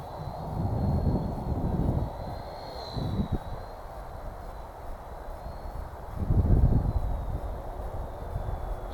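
A WLtoys V930 Power Star X2, a small 4-channel brushless flybarless RC helicopter, flies outdoors on a windy day, with a steady high motor whine that wavers as it moves, over wind buffeting and rumble.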